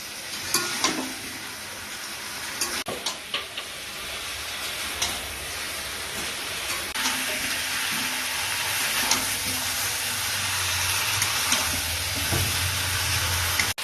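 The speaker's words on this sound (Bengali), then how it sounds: "টমেটো কুচি দিয়ে এবার ভালো করে মাংসটা কষাবো।" Chicken frying with chopped tomato and ground spices, giving a steady close sizzle and hiss under occasional stirring scrapes and light clinks, with no voices.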